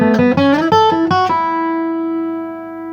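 Bluegrass guitar playing a quick run of picked notes with a pull-off in Fire on the Mountain, ending on a clear note that rings out and slowly fades, heard alone and close.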